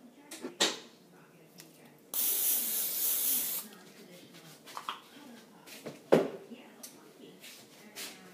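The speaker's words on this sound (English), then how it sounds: "Spray it with a little bit of olive oil." A sustained spray hiss of olive oil onto a pan lasting about a second and a half, close up, with scattered clicks and light handling noises before and after.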